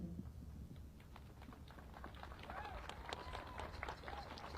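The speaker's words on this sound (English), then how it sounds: "Ese aplauso es para toda la comunidad que está viviendo con miedo." An audience applauds in support of immigrant communities, a dense, faint-to-moderate ripple of many hands clapping from a distance, continuing steadily with some voices mixed in.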